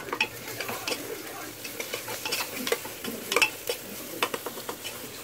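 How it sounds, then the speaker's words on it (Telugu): Ginger-garlic paste and turmeric being stirred into frying onions in oil for a Telangana-style mutton curry, with steady sizzling and repeated scraping and clinking of the spoon against the pan, close and fairly loud. "తర్వాత 1/2 టీ స్పూన్ పసుపు, 2 టీ స్పూన్స్ అల్లం వెల్లుల్లి పేస్ట్ వేసుకొని కలుపుకోవాలి."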